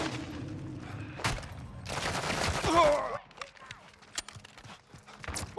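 Gunfire and explosions ring out in a tactical shooter video game, with loud bursts and shots over a busy battle mix while a voice calls out in the game.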